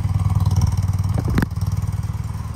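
A BMW Airhead motorcycle engine with Bing carburetors idles slightly high, its steady rhythmic putter loud and close, with a brief clattering blip partway through.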